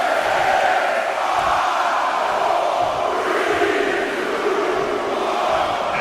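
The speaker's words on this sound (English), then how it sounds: "Listen to this crowd." Wrestling arena crowd from the WWE 2K19 video game, a dense, continuous wash of cheering and roaring that stays loud and steady throughout, with no clear voices above it.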